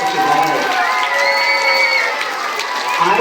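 A crowd of children cheers, shouts and claps for a police officer at a Red Ribbon Week event, excited high voices and whoops rising over scattered applause, loud and close.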